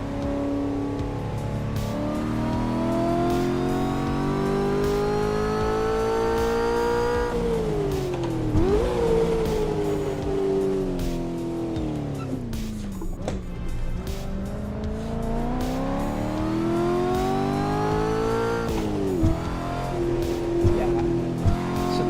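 A car in Assetto Corsa on the LA Canyon map revs and shifts through gears, engine pitch climbing and dropping repeatedly with occasional tire squeal, steady and close throughout.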